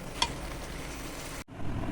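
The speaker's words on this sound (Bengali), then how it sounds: "দেখতে পাচ্ছেন বাটাটাকে কড়াইতে ভালো করে নাড়ানো হচ্ছে।" Ghatkol paste stirred and frying in a wok with oil and chopped garlic, a steady close sizzle with scraping stirs and one sharp clink near the start, briefly cutting out before the frying resumes.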